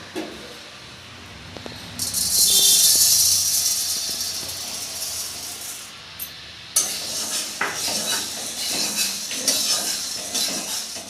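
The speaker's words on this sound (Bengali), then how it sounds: "এই সাবুটিকে আমরা এখন কড়াতে একটু ভেজে নেব" Sago (sabu) dry-frying in a wok (kadai): a loud hissing rustle of grains being tossed and stirred, with metallic scrapes against the pan coming in waves.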